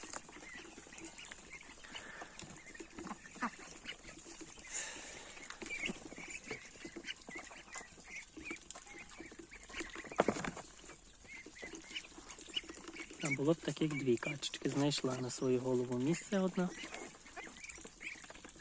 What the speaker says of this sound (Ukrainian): там індики, гуси, качки крякаючі, качки, мускуси